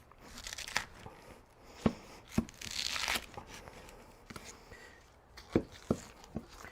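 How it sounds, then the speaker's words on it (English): A knife cuts a pineapple in half with quiet crunching and tearing, scattered sharp crackles spread through an otherwise hushed kitchen moment. "I haven't cut too many pineapples right down the middle before"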